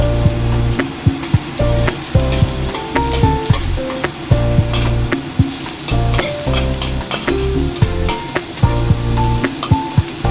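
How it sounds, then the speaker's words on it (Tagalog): Ginger, onion and garlic sizzle in a frying pan for a pork and zucchini stir fry, a constant close crackle broken by clinking spatula strokes and scraping, with no talking. "So maglagay tayo ng ginger, onion, at syempre ang ating garlic."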